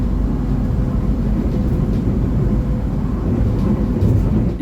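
Steady low rumble and roar of the Sancaka passenger train on the Jogja to Surabaya run, heard from inside the carriage as it passes through urban Solo near Purwosari station, loud and continuous, with no voices.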